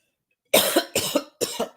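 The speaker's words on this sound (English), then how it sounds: "y'all excuse me for coughing" Three harsh, close coughs in quick succession after a brief silence, each a rough burst with a short catch at its end.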